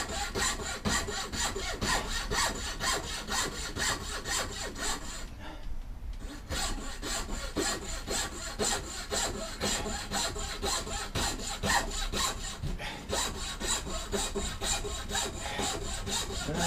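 A hand saw cuts steadily through wood, roughing out a wooden spoon, with continuous back-and-forth rasping strokes that pause briefly twice; close and alone, with no voices.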